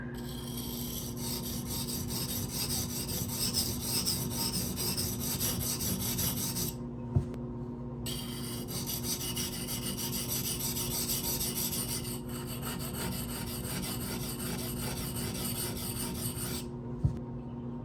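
Steady rasping strokes of a Protech TR-3 knife with a Magnacut steel blade being sharpened, continuous close-up scraping with two short pauses where the stroke stops.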